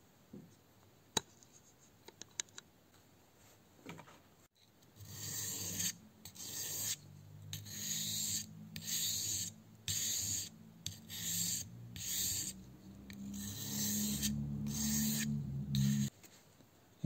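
A grafting knife is sharpened on a whetstone, heard as rhythmic rasping strokes, roughly a dozen back-and-forth passes with short gaps, close and fairly loud after a few quiet handling taps at the start.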